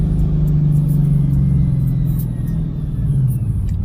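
A car engine rumbles steadily while driving, a loud, continuous low drone with a slight dip in intensity midway before it settles back to an even growl.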